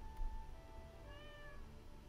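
A stray cat in the Stardew Valley video game meows a few times in soft, drawn-out, wavering calls over a steady game music background, with no speech.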